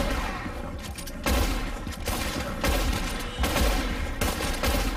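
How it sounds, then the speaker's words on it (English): Rapid volleys of gunfire from a Red Dead video game shootout, loud and close, arriving in repeated bursts of several shots each across the span with only brief gaps between them and no talk. "I was shooting him like point blank and he was just sitting there."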